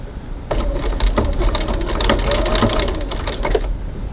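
Domestic sewing machine stitching a gusset in place at a 2.4 stitch length, its rapid needle chatter running steadily and close for several seconds, with no talking.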